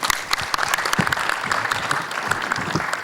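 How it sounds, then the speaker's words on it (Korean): Sustained applause from an audience at a Korean immigrant theology symposium, dense steady clapping throughout with no talk. "우리 연사님들 귀한 발표 말씀 다시 한번 크게 박수 한번 드립시다"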